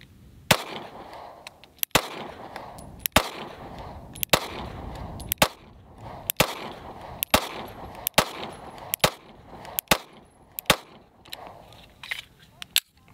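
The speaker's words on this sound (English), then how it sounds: "These are going to be the first rounds through the gun." A Springfield Armory Hellcat pistol with an 11-round magazine fires its first rounds. About a dozen loud, sharp shots come at a steady, unhurried pace, each followed by brief ringing and outdoor range noise.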